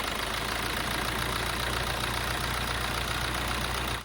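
A Maruti Suzuki S-Cross, Zeta variant, idles in a steady, close, continuous engine rumble that holds even from start to finish with no talking.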